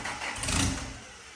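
A car engine prepared for a dyno session gets a short blip of throttle, a loud, near rev that swells and then eases back toward idle over about a second and a half.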